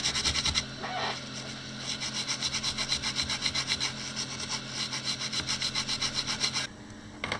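A Lenovo Ideapad 310-15 laptop circuit board is scrubbed with isopropyl alcohol, making quick, rhythmic rubbing strokes close up, with a few brief pauses and no speech.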